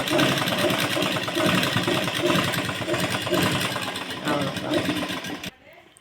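A sewing machine stitches a blouse with steady, rapid mechanical clatter that runs for about five seconds before stopping, while someone talks over it.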